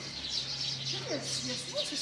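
Small birds chirp in short, scattered tweets over a steady outdoor hum in Luang Prabang, Laos, with people talking nearby.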